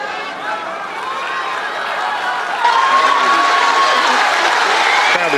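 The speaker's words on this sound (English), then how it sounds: "The crowd is trying to lift her." A tennis crowd at the Commonwealth Games women's singles final applauds and cheers in a dense, sustained wash that swells louder midway and holds steady, with voices mixed into the clapping.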